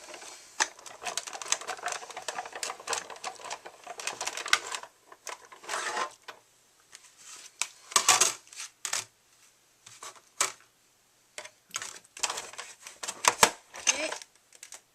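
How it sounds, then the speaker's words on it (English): Cuttlebug die-cutting and embossing machine being cranked, bursts of rapid clicking and ratcheting in short runs with pauses between, close and fairly quiet, while someone talks intermittently. "And get the Cuttlebug over here."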